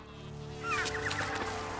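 An albatross calls at its nest in a wild seabird colony: a short run of harsh, honking cries that rise out of a steady background hum, close and fairly loud, with no talk.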